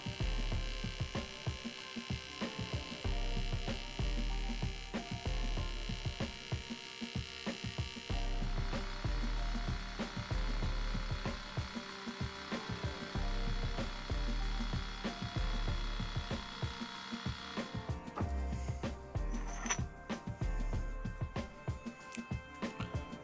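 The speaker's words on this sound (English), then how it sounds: "we're going to have to turn this piece of aluminium and use that for now" An aluminium workpiece turned on a lathe, a steady motorised hum and whine running throughout with shifting cutting tones partway through and a rougher, busier cut near the end.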